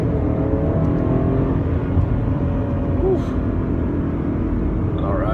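A 2018 BMW M5 F90 accelerating hard in four-wheel-drive sport mode, a steady low engine roar and rising drone heard from inside the cabin, continuous and fairly loud.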